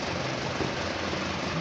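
Isuzu Panther LS diesel engine with worn piston rings running close by, a dense steady rattling drone with a fast knocking pulse and no break.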